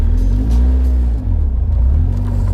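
A Caterham Seven 360R sports car pulls away onto the road, its engine giving a loud, close, low rumbling drone with rising and falling revs and a brief dip, as if shifting gear.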